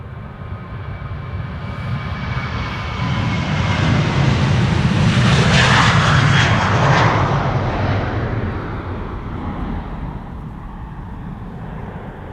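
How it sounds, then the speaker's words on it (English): An 11-year-old Sky Express airliner departs Amsterdam Schiphol Airport, its jet roar swelling loud and broad from the distance, peaking mid-pass, then slowly fading while still audible at the end. "Sky Express flight 1323 to Keizerie in Turkey. 11-year-old airplane, first flight February 2014."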